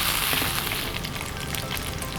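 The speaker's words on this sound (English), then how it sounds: "Now just listen to the sizzle, watch for the crispy bottom" Shrimp dumplings crisping their bottoms in a pan with bacon, a steady close sizzle of hot oil and fat that carries on unbroken with no talking.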